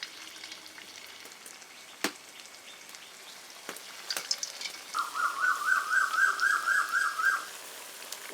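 Potato smiley snacks fry in hot oil in a wok with a soft, steady sizzle and a few sharp clicks. A loud, rapid electronic chirping pattern rises over it partway through.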